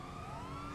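An ambulance siren in the video game GTA 5 wails, holding a steady rising tone over dense rumbling engine and road noise, loud and close, with no voices.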